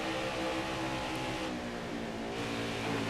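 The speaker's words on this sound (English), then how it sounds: "You got to hear those engines get closer and then fade away." Race car engines in the NASCAR Heat 4 video game drone steadily at moderate loudness, with the sound of other cars swelling nearer and then easing away as the pack moves around the Pocono track.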